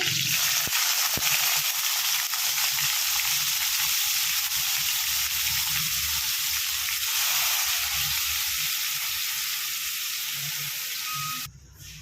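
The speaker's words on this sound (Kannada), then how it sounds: "ಈಗ ಬಾಳೆಕಾಯಿ ಹಾಕ್ಕೊಳ್ಳೋಣ ಫ್ರೆಂಡ್ಸ್ ಕಟ್ ಮಾಡಿರೋ ಬಾಳೆಕಾಯಿ ಹಾಕ್ಕೊಳ್ಳೋಣ" Cut raw plantain pieces frying in hot oil with curry leaves in a pan, a steady close hiss and sizzle running unbroken for about twelve seconds before dropping off sharply at the end.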